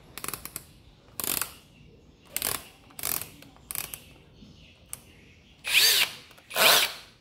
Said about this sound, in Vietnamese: Rồi chức năng khoan thường.